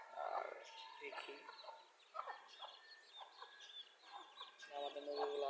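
Domestic village chickens and a rooster on a backyard poultry farm, several birds clucking and calling at once in a busy, overlapping chorus at moderate distance, with no talk over them.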